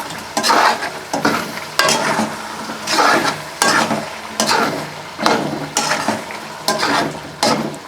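A utensil stirs chicken karahi in a pan, with roughly ten rhythmic scraping strokes against the metal over a light sizzle, all close and loud.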